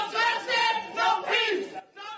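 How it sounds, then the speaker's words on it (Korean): Citizens gathered outside a courtroom jeer after a sentencing, their massed shouting voices rising and falling in a few short, loud waves before a brief lull and a final surge. "예상보다 낮은 형량 선고에 법정 밖에 시민들은 야유를 쏟아냈습니다."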